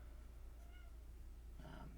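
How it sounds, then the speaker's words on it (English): A kitten meows twice, thin high cries heard faintly and somewhat distant over a low background hum, with no talking. "There's a kitten meowing."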